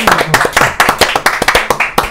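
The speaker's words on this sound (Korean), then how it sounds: "박수로 환영합니다." Audience clapping in welcome for a guest at the opening of a Yeouido pub-style talk show, a rhythmic run of sharp, fairly close hand claps from a small group, with faint voices underneath.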